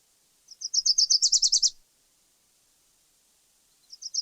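Western warbler song: a fast, high, undistinctive trill of about a dozen rapid even notes lasting just over a second, then quiet, then the start of another trill, clear and alone.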